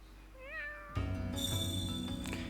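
A cat in Fire Emblem: Three Houses gives one short, rising meow, followed right away by bright sustained game tones.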